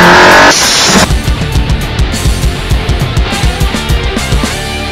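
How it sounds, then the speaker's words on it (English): Audi S3 8V fitted with a GFB DVX T9659 blow-off valve, heard as a loud burst of venting air for about half a second, followed by a steady rhythmic engine idle pulsing close by. "we are going to review the blow-off valve from a sound point of view"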